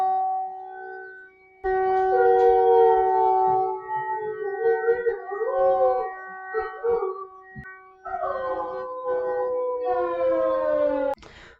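A dog howls like a wolf along with a wailing fire brigade siren, its rising and falling cries layered over the steady siren tone for several seconds, with a few yips and barks mixed in.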